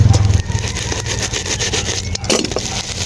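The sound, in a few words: roadside traffic noise outside a sari-sari store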